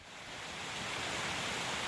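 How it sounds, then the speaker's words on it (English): Waterfall just above a mountain campsite on the GR5 trail, a steady broadband roar that swells slightly and holds constant, heard alone. "Oh, a nice waterfall"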